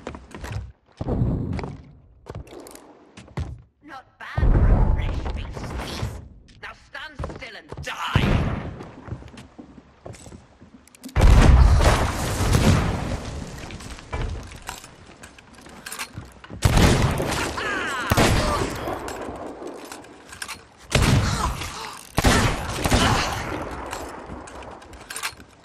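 Bursts of gunfire as a whole magazine is emptied, probably in a video game, with repeated loud shots, booms and crashing impacts coming in clusters separated by short quiet gaps.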